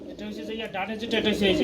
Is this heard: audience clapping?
no